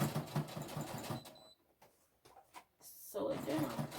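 A sewing machine stitches down a fabric apron skirt in short bursts, its rapid needle chatter loud and close, stopping briefly before starting again, with a voice speaking around it.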